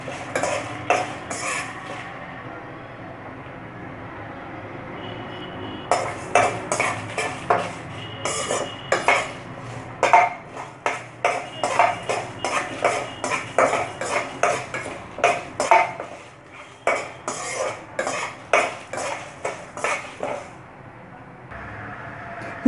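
Red chili and spices dry roast in a pan with no oil sizzle, marked by bursts of quick, sharp metallic scraping and clinking of a spoon against the pan, separated by short pauses.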